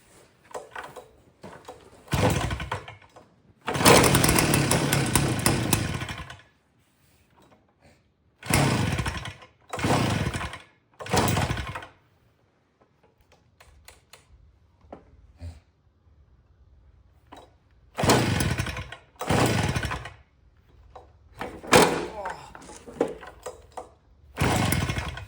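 A 40cc gas engine on an RC car, its muffler drilled out through the main baffle, revs in loud, raspy bursts of a few seconds each, dropping to a low idle or near quiet between runs.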